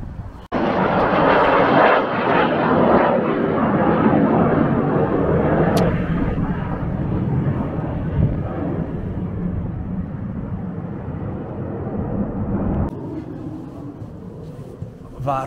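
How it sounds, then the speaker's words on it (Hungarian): Aircraft drone passes overhead outdoors by a castle wall, a loud, steady roar that slowly fades, with a person talking over it. "A háttérben látszanak a repülők, megint csak mennek és húzzák a csíkot maguk után."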